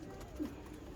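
Pigeon at a breeder's setup gives a single soft, low coo, faint and close amid quiet background noise.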